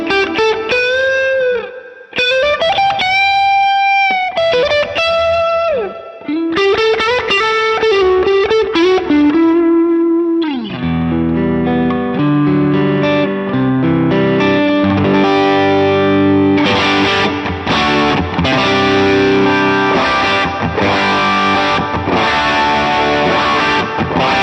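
Electric guitar on the neck pickup driven through a Klon overdrive pedal, a pedalboard tone demo: sustained overdriven notes and bends give way to thick distorted chords, loud and continuous with no talking.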